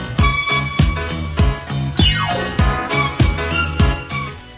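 Disco groove in a song, a steady four-on-the-floor kick under a driving bass line that never lets up, with bright hi-hat accents and a sweeping synth figure midway, all music and no vocals.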